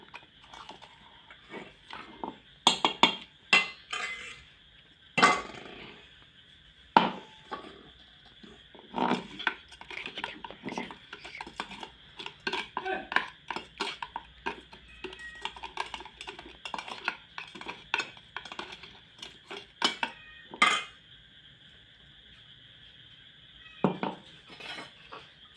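A spoon clinks and scrapes around a vessel while ground prasad with coconut is mixed for a Ganesh offering, producing irregular bursts of close, light metallic tapping and rattling.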